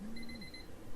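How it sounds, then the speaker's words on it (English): Phone alarm beeping faintly in a quiet room, a thin high repeating tone with a short lower note at the start. "My alarm went off."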